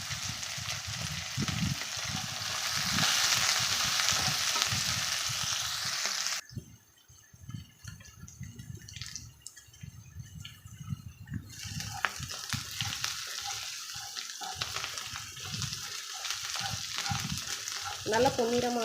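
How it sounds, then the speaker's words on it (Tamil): Curry leaves fry in oil and are stirred in a pan for shark puttu, with sizzling that fades partway through, then resumes, alongside frequent scraping and tapping of a spoon close by. "நல்லா பொன்னிறமாக வர வரைக்கும் நல்லா வறுத்துக்கலாம், வதக்கிக்கலாம்."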